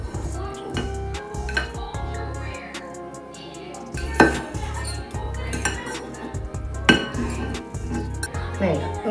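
Shredded cooked chicken is dropped into a glass jar, giving scattered soft clinks and knocks against the glass, with a couple of sharper taps under steady background music.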